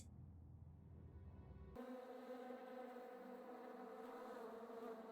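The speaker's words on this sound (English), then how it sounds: "All the bees buzzing." Bees buzz in Kingsmouth, a town in a video game, as a steady droning hum that starts abruptly partway through and fills the rest of the scene at an even, moderate level.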